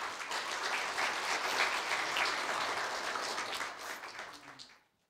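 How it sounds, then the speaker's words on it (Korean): Applause fills a hall at a university staff retirement ceremony in Korea, a steady crowd clapping at moderate distance that holds for about four seconds, then thins and fades to silence. "오양호 부장님을 큰 박수로 맞이하여 주십시오."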